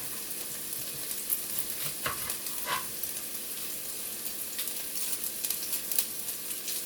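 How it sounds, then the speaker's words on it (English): A small chopped onion sautés in a hot pan for lentil soup, giving a steady, even sizzle with a couple of soft stirring scrapes partway through. "I'm just going to saute it till they're translucent"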